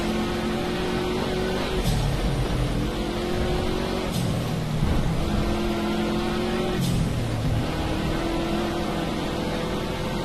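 Racing car engine in a video game, a loud, continuous drone that sweeps up and down in pitch through repeated gear changes, with no one speaking over it.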